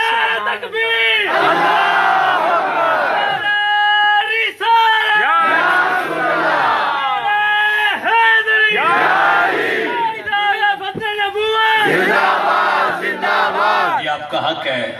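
A large crowd roars a takbir slogan back in unison, loud massed voices chanting in repeated surging bursts with brief pauses between calls, filling the space close and continuous.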